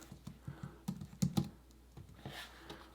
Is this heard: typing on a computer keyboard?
yes